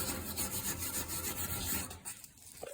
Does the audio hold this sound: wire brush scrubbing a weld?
yes